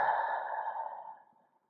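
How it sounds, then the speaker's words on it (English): A single long, breathy exhale during a recovery breath in a back-pain exercise routine, close and soft, fading away over about a second and a half. "Exhale."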